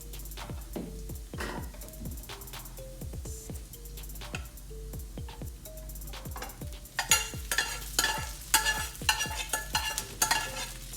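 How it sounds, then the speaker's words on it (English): Steady sizzling of rice stir-frying in a hot pan with pork fat and onion, with repeated scraping and stirring clicks, growing louder and busier toward the end, with no voices. "You want to hear that sizzle."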